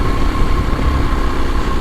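Kawasaki KLX230SE dual-sport motorcycle engine lugging at low RPM while climbing a grade, a steady low droning thrum under wind noise, close and continuous.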